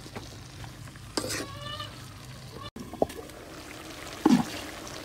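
Malabar spinach, cooked with jackfruit seeds, being stirred and fried in a pan, giving a soft steady sizzle with scraping stirs and a couple of sharper clanks near the end; a voice speaks briefly partway through.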